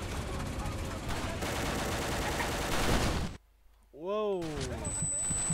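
A tank fires amid dense battlefield gunfire in the Vietnam War shooter Vietcong 2, a loud continuous roar of shots that cuts out abruptly, followed by a brief voice exclaiming over the din.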